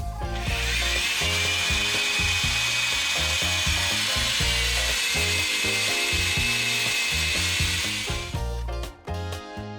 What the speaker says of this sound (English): Try to drill more.